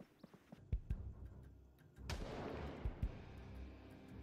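Distant gunshots from someone shooting at zombies in Project Zomboid, a handful of sharp thuds scattered over a low rumbling background, fairly faint and far off.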